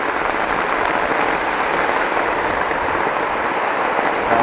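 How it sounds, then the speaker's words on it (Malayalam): Heavy monsoon rain pours down on a long road trip, a loud, steady hiss of drops striking surfaces close around, with no break and no voices. "പിള്ളേര് നല്ല കനത്ത മഴയിൽ."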